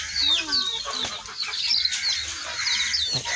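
Local deshi chickens crowded in a cage cluck and squawk continuously, several birds overlapping at close range in a steady, busy chorus.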